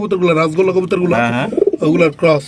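Pigeons coo at a pigeon breeding farm in Bangladesh. Loud, close, rolling coos come in several bursts, with possible voices mixed in.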